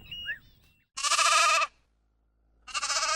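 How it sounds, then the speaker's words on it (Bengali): A short voice at the start, then two loud, wavering sheep bleats separated by about a second of quiet. "ভেড়া"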